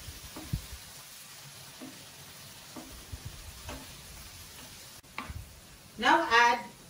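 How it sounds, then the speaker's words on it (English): Methi leaves sautéed with garlic in a pan, with soft intermittent scrapes, then a louder burst of sizzling and stirring near the end, while a voice speaks over the cooking. "Saute the leaf with the garlic."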